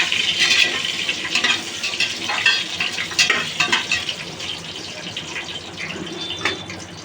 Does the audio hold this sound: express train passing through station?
no